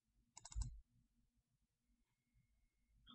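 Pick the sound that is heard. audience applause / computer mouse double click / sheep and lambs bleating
computer mouse double click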